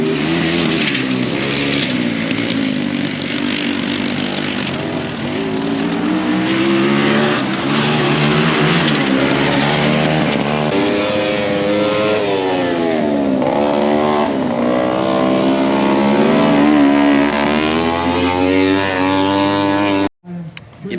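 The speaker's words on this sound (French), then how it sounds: "c'est bien des courses de tracteurs tondeuses mais qui sont un peu remodifiées" Modified lawn tractors race at an agricultural show, their small engines whining and droning loudly and continuously as pitch rises and falls with each pass, ending in an abrupt cut.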